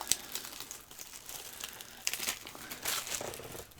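Clamshell plastic packaging around an action figure crinkles and crackles as it is pried open close by, with several bursts of rustling and no talking.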